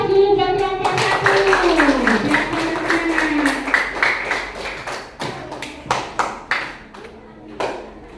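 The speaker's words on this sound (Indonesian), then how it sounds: "Kasih aplaus dulu buat kelompok 1" A small classroom group gives scattered, uneven applause for group 1, with light claps and taps that trail off into separate claps. Children's voices and a tonal voice-like sound carry over the opening.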